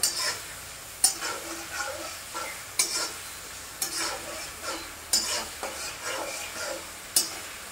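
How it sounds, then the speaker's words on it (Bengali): Fish fries in a pan, making a light crackling sizzle broken by regular scraping stirs and sharp utensil taps about once a second, close by and with no talk. "তার আগে মাছটাকে আমি ভালো করে ভেজে নেব, একটু সামান্য পরিমাণে ভাজবো।"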